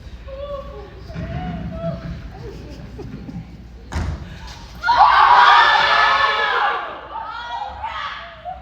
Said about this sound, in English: Will you stop that infernal screeching?